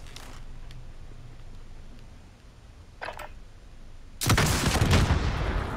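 Rocket explosions and gunfire in a first-person shooter gunfight: a couple of faint bursts early on, then a loud, sustained roaring blast of explosions near the end.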